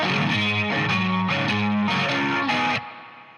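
A short, loud distorted electric guitar riff with rhythmic strummed chords, ending abruptly and leaving a brief fading ring.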